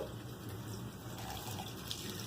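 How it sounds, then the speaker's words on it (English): Tap water runs steadily into a sink while a human hair wig is rinsed under it, a constant close splashing flow with no speech. "Keeping the water running in the direction of the hair"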